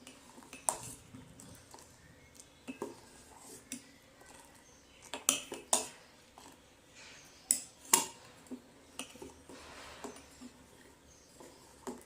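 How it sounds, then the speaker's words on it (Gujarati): A spoon clinks and scrapes against a pot while almond paste is stirred into a badam shake, producing scattered irregular taps and clinks close by with quiet gaps between them. "અને હવે આપણે ધીમે ધીમે તેને હલાવતા રહીશું."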